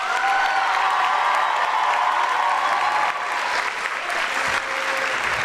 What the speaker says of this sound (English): Let's get a huge round of applause for those student presenters.